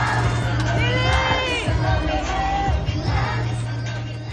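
A large concert crowd at KCON in Los Angeles cheers and sings along in unison during a girl-group member's performance, a dense, loud, continuous roar of voices with shouts rising over it.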